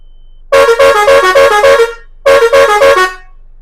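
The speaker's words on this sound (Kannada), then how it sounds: "horn sound" A truck's horn blares up close in two blasts: a long, pulsing honk of about a second and a half, a short pause, then a briefer second honk.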